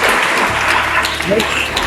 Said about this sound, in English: A round of applause for this school, please.